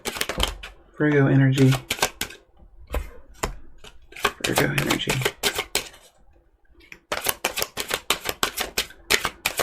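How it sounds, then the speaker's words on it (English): Tarot cards being shuffled by hand in quick, crisp bursts of riffling and tapping, with someone briefly speaking between the card sounds. "So I'll just be quiet now and shuffle."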